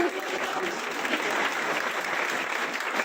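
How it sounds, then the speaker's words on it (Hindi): Audience at a stage play applauding, a dense, steady burst of many hands clapping that holds evenly throughout, with no speech over it. "ताली तो बजा दीजिए।"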